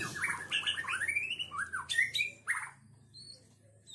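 An albino long-tailed shrike gives a run of harsh, squawking calls and rising chirps up close, then trails off into a few thin, faint notes.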